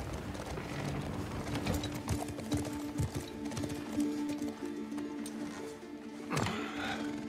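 Horse hooves clip-clop in The Last of Us Part 2, a steady rhythmic plodding at moderate distance, with clinking tack, faint ambient noise and a brief whinny-like sound near the end.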